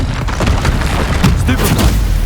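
Fiery Confringo spell blast in Hogwarts Legacy, a loud booming burst with crackling noise filling the clip amid game combat sounds, with faint voices underneath.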